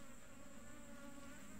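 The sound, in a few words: buzzing of laywan wild bees at their nest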